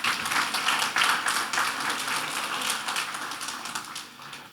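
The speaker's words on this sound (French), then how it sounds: "Oui, vous pouvez applaudir, il n'y a pas de mal." Conference audience at a nature and wildlife talk breaking into steady applause, a dense wash of many hands clapping at moderate distance, fading slightly toward the end with no talk over it.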